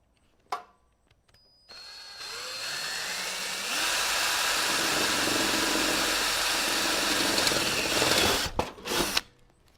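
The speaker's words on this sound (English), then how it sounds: "that'll hold it in place while I drill this one out" A power drill bores out a hole in a custom computer case, a few short clicks and bursts before a sustained, loud, close whine that holds for several seconds, then stops with sharp clatters.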